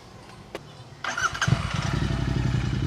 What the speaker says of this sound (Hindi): तो चलिए इस बाइक का साउंड नोट सुनते हैं।